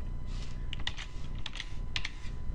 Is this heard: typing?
yes